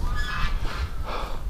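Ducks on open water at a farm pond on a cold, windy day give loud nasal honking calls, two or three close bursts over a breathy windy background, with no talking.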